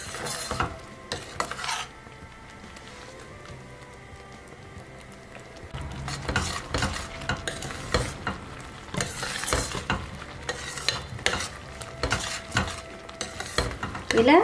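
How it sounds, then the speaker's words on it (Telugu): Wheat rava being stirred in simmering jaggery syrup in a pan for sweet wheat kheer, with steady scraping strokes of a spoon against the pan and occasional louder clinks, close and continuous with a soft bubbling sizzle underneath. "ఇప్పుడు ఈ పాకంలో ఈ రవ్వని 5 నిమిషాలు ఇలా తిప్పుకుంటూ అడుగంటకుండా"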